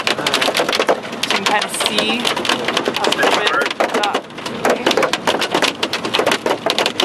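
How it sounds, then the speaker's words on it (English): Dense, rapid hailstones clatter loudly and continuously on a car's roof and windshield while driving through the core of a supercell in Wyoming, with a voice talking over the drumming. "That is hail, baby. That sounds really loud."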